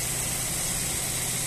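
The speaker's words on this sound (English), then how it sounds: "Engine sound very nice and smooth" A 2.0-litre petrol engine runs steadily in a Ford C-Max Titanium five-door automatic MPV with 71,000 miles, giving a smooth, even idle hum with no voices over it.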